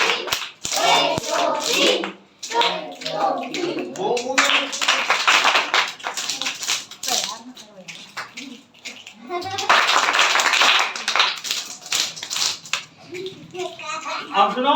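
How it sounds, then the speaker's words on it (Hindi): A classroom of children clapping together in a special patterned clap, bursts of loud, dense hand claps alternating with an adult voice talking and children's voices. "वो स्पेशल ताली बजाओ"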